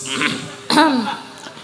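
A single short, close throat clearing comes from a performer during a Javanese limbukan stage comedy with a sinden singer. It is a gruff burst with faint voice sounds around it.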